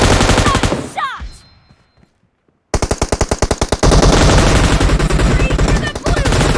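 Rapid machine gun fire in the mobile battle royale game PUBG Mobile: a dense, loud rattling burst, a brief silent gap, then sustained fast automatic shots that continue steadily to the end.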